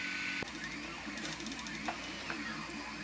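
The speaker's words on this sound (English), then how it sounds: "I'm printing a couple of parts that are going to go with these." A 3D printer printing parts gives off a close, steady mechanical whir of motors with small stepping ticks and occasional soft clicks, continuous and unbroken.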